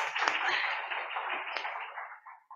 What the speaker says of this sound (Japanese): まずは拍手でありがとうございましたということで。